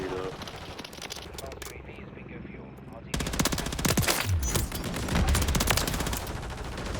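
A RAM 9 submachine gun firing in Modern Warfare 3, with scattered shots at first, then a loud rapid automatic burst that keeps going for several seconds, close and dominant, with game effects and a voice mixed in.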